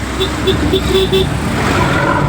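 Busy city road traffic rumbling close by, heard from an auto-rickshaw, with engines droning and a few short, repeated horn beeps early on.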